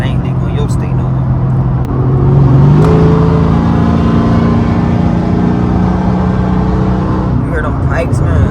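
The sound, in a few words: Dodge Challenger SRT8 392 Scat Pack exhaust accelerating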